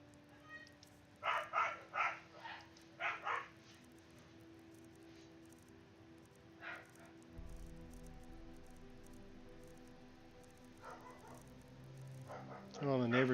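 Neighbours' dogs bark from a distance, a handful of faint barks clustered near the start with scattered quieter ones later over a low background hum.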